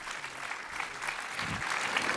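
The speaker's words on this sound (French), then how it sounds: "on peut l'applaudir" A short burst of steady, fairly dense clapping from an audience at a film festival event, continuous and evenly sustained with no voices over it.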